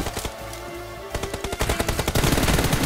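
Gunfire from a mobile shooter video game on a Samsung phone: rapid, loud bursts of shots that grow denser and more continuous toward the end, with no voices.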